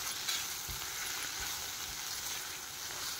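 Vegetables frying in a pan with oregano, giving a steady close-up sizzle and crackle, with a few soft stirring thumps underneath.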